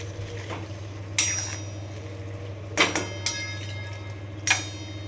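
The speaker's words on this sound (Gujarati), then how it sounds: "હવે આપણે ડુંગળી એડ કરી દીધી છે સરસ મજાનું મિક્સ કરીશું" Chopped onions are stirred in a cooking pan, with a few sharp metallic clinks of a spoon against the pan over a low steady hum, sparse and close.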